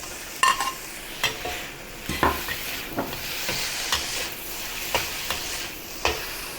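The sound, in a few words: cucumber being stir-fried in hot pan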